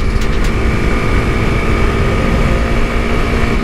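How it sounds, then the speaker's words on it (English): A Honda CRF300L set up as a supermoto runs at top speed on a dry road, giving a loud, steady engine drone mixed with wind roar that holds constant throughout, with no talking. "Do a little top speed run with the Supermoto setup."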